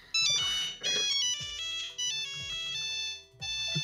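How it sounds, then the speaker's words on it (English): A Nokia cell phone ringtone plays its bright electronic melody in short phrases, with brief gaps between bursts, loud and close. "Nokia cell phone."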